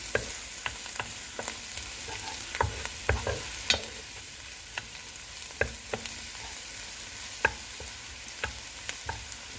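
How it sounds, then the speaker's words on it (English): Onions and curry powder sweat softly in a pan while being stirred: a faint, steady sizzle runs throughout, dotted by light scrapes and taps of the spoon against the pan, with no voices. "Now we just sweat this off for like 5 or 7 minutes, just so the onion becomes clear."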